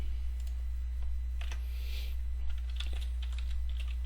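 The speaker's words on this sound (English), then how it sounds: "So all you have to type allure, so type allure serve," A computer keyboard clicks in short bursts as a command is typed, the keystrokes close and crisp over a low steady hum, with no voice.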